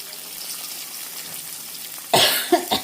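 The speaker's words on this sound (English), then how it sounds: "I'm coughing because of the smoke that I made burning up my sausage." A person coughs a few times, sharp and close, after quiet kitchen background from sausage burning and smoking in a pan.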